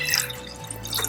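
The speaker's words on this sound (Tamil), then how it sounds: "ஒரு பாத்திரத்துல பாலை ஊற்றி" Milk is poured from one vessel into a cooking pot while making aval payasam, a soft, brief liquid trickle and drip, close and quiet, heard alone.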